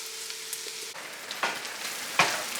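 Onions frying in a frying pan for jalapeno chip BBQ burgers, a soft close sizzle with scattered crackles and a few brief scraping stirs, quiet and without talk.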